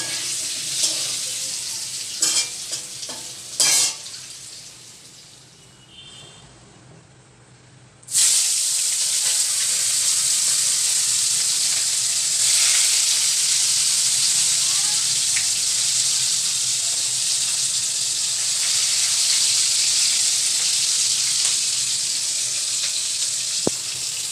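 Onions frying in a pan in a home kitchen, a few clatters and knocks first, then a loud steady sizzle that starts abruptly and hisses on evenly for well over ten seconds.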